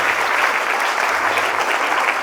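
An audience at a CBSE school award ceremony in Mohania gives sustained, even applause, many hands clapping loudly together without pause.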